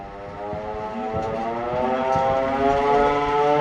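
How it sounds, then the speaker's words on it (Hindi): Civil defense siren sounding a green alert during a mock drill, a steady wailing tone with stacked harmonics that slowly swells louder over a few seconds, heard alone with no talk. "ग्रीन अलर्ट का सायरन बजेगा"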